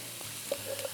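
A sauce of gorgonzola and walnuts sizzles faintly in a pan over a flame, a steady low hiss broken by a few small pops and bubbles, with no talking.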